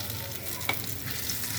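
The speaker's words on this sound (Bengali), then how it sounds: "এবার আমি একটা একটা করে এর মধ্যে বড়াটা ভেজে নেব।" Lentil fritters (bora) frying in oil, a quiet steady sizzle with a single small pop or crackle, short and faint.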